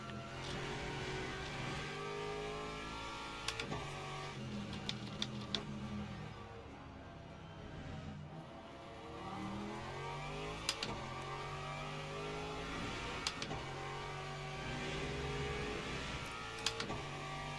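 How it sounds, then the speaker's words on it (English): Hypercar race cars in Le Mans Ultimate close in and pass, a dense layered whine of several engines rising and falling in pitch, loud and continuous with sharp clicks scattered over it. "Here come the Hypercars."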